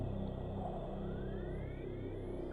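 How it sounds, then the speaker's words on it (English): Windstorm and dust storm in Metroid Prime, a low, steady rumbling roar that holds throughout, with a faint rising whistle drifting over it. "Windstorm, dust storm."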